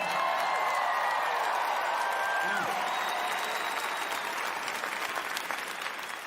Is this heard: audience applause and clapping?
yes